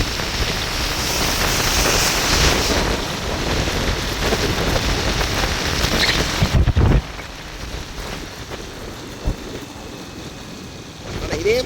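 Heavy storm rain pours down in Jaffna, a dense and constant hiss of downpour that eases slightly partway through before carrying on.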